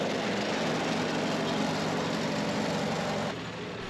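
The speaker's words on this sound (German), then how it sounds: "Also der Traktor ist hier wirklich voll ausgelastet in seiner Schräglage." A McCormick tractor mowing hay on a steep slope roars steadily under full load, a dense, loud engine noise that eases slightly just before the end.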